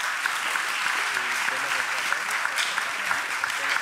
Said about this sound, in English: Can I get a round of applause for these amazing speakers?